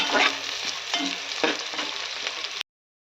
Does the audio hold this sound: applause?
no